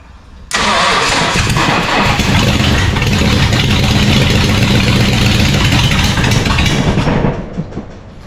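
A turbocharged Mopar big block in an International coupe ute, running unmuffled straight from the manifolds, cranks and fires. It settles into a loud, rough, raspy idle for several seconds, then cuts off.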